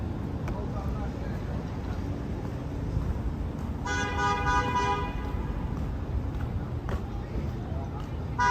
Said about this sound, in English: This bus can't make a turn, so the bus is honking